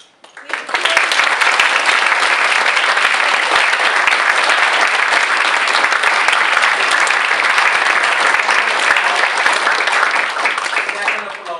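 Audience at a Model UN environmental earth summit gives sustained, dense applause for the event organisers, starting almost at once and holding loud and steady for about eleven seconds.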